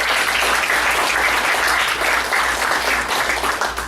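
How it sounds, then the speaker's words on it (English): An audience at the ServiceUnites 2013 conference breaks into dense, sustained applause that holds steady and loud for several seconds, filling the hall with no voices standing out. "So a big round of applause for everyone who's involved with all of that."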